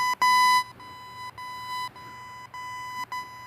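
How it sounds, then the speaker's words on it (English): Alarm beeping in short, repeated electronic tones, one louder burst near the start followed by quieter evenly spaced beeps, with no talking. "My alarm keep going off."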